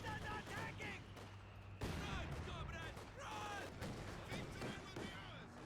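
Mortar and counter-mortar fire in a strategy video game match, dense bursts of distant booms and rattling gunfire layered with battle effects, with a voice talking over the action.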